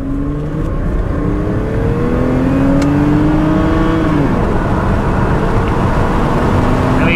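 A 1997 BMW 528i accelerates in first gear, the engine note climbing in a loud, close rev that levels off and then continues as a steady drone.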